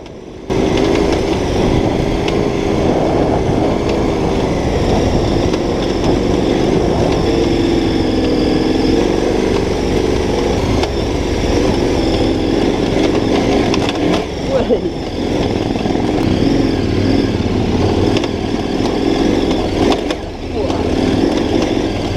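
A big motorcycle rumbles steadily up close along a narrow, technical trail lane, its engine droning loud and continuous throughout, with no gaps in the noise.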